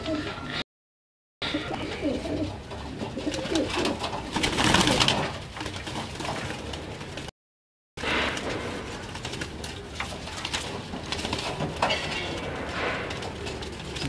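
Pigeons coo steadily on a rooftop, soft throaty calls repeating close by, with faint rustling and a couple of brief dropouts.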